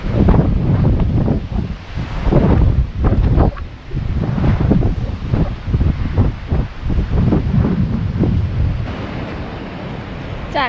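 Cold wind blows outdoors in New Zealand, loud gusty buffeting against the microphone that surges and drops in uneven waves for about ten seconds.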